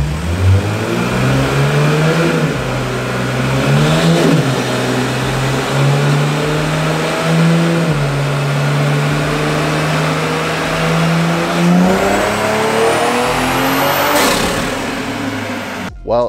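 A Toyota GR Supra fitted with an MST intake revs steadily for the whole stretch, a loud, close engine drone with gentle rises in pitch, a sharp climb near the end, then a quick drop.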